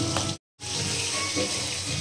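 Hilsa fish fries in hot oil, giving a loud, continuous crackling sizzle close by. The sizzle cuts out for a moment, then resumes.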